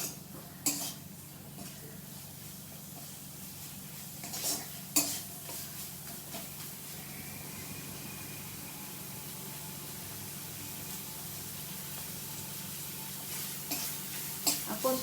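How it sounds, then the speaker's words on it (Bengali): A paste of ground poppy seed and white sesame sautés in a pan for a rui fish curry, giving a steady soft sizzle broken by occasional spoon scrapes and clinks against the pan. "দিয়ে আমি আর একটু এখানে কষিয়ে নেব"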